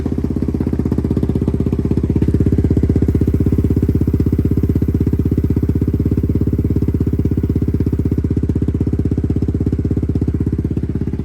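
SSR 150 pit bike engine running in gear on a stand, a steady loud rapid throbbing drone held at constant pitch throughout, close to the microphone with no talking.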